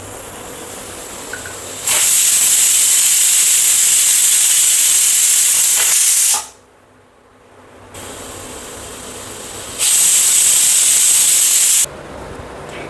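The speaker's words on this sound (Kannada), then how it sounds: "ಈಗ ಕುಕ್ಕರಲ್ಲಿ 3 ಸೀಟಿ ಬಂದಿದೆ." Household pressure cooker cooking chickpeas for channa masala: loud, close hissing steam bursts through the whistle, two long blasts separated by quieter steady venting and a brief lull.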